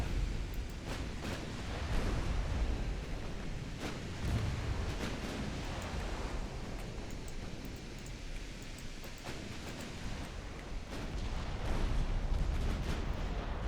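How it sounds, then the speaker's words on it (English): Naval gunfire from warships in Ultimate Admiral Dreadnoughts rolls as a dense, rumbling barrage, with heavy booms and sharp cracks thudding over a continuous roar of battle, steady and fairly loud throughout. "Second destroyer group is being neutralized by heavy enemy fire."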